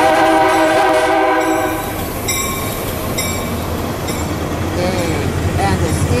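A Metra commuter train in a Roblox railfanning train simulator sounds a loud sustained multi-tone horn blast that fades into rolling wheel noise and track clatter, with faint squeals near the end.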